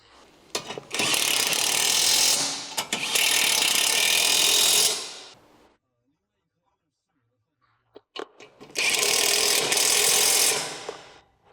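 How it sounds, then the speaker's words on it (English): A hand ratchet with a 15mm socket tightens the lower control arm bolt on a 2006-2011 Honda Civic, giving two long bursts of rapid clicking separated by a silent pause, close and clear. "Use a 15mm socket to tighten the opposite side."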